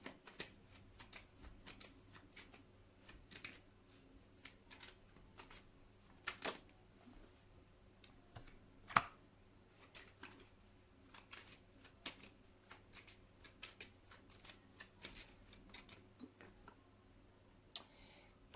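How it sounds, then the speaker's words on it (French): Tarot cards are shuffled for a reading in a quiet room, giving faint, scattered riffles and soft clicks with a few sharper snaps and pauses. "Allez, on y va, petit tirage carte pour aujourd'hui."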